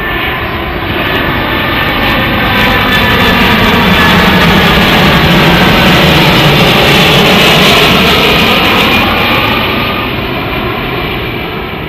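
A fixed-wing airplane passes low overhead near Stansted Airport, a loud, continuous engine roar that swells and fades slowly across the whole stretch, with nothing else heard.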